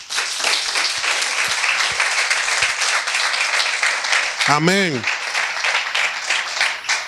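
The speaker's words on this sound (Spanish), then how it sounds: "dale un aplauso al Señor" Church congregation applauding for the Lord, a sustained wash of clapping from many hands filling the room, with a brief sung or spoken exclamation rising through it partway.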